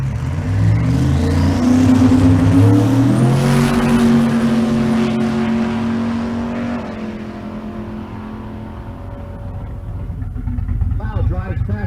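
Drag race car at Kearney race week revving hard and accelerating down the strip, a loud, rising engine roar that drops in pitch and fades as it pulls away, with crowd and other voices talking underneath.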